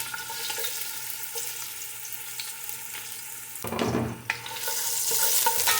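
Chicken feet sautéing in canola oil, a steady sizzle with stirring scrapes that grows louder and brighter as the pan heats up partway through.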